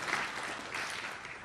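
Steady applause from an audience at a university event, a dense, even patter of many hands kept up throughout at a moderate distance, with no voices over it.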